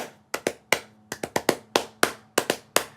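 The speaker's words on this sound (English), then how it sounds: "if I just clap a rhythm" A single pair of hands claps out a syncopated rhythm, about a dozen sharp, close, dry claps in uneven groupings with short silences between them.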